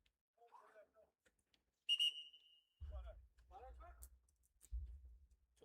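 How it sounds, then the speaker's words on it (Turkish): A referee's whistle gives one sharp, loud blast at an amateur football match in İzmir, between quieter stretches of a commentator talking. "Düdük sesiyle beraber yerden bir top gönderiyor Batuhan Muhtar"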